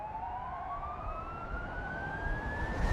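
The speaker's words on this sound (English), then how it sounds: "Civilians in Israel flee to shelters as sirens wail." An air raid siren in Israel wails faintly in the distance, its tone rising slowly and steadily over a low rumble of background noise.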